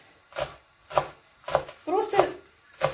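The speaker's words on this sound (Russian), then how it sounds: "дальше нарезаем зеленый лучок" A knife chops green onions on a board in a home kitchen, six sharp close strikes at an uneven pace, one with a short scraping slide, with no talk between them.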